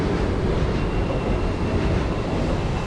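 Steady, loud rumble of a train in motion in the Czech Republic, a dense continuous roar with a faint high whine running through it, no voices.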